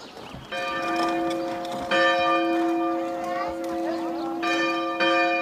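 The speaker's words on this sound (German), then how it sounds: "Denn die Glocken für den Abendgottesdienst werden per Hand geläutet." Church bells rung by hand for the evening service at Die Malche in the Oderbruch, a loud, sustained peal with repeated strikes and ringing overtones that swell and overlap throughout.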